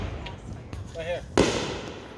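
Outdoor Fourth of July fireworks: a faint crackle, then one sharp bang near the end that fades into a short rumble, with people talking and exclaiming over it.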